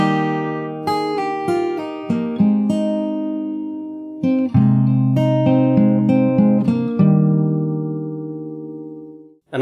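Acoustic guitar working through the full intro of a song from The Last of Us Part II, with a steady flow of plucked notes and chord attacks ringing over each other for nearly ten seconds before stopping abruptly, no voices.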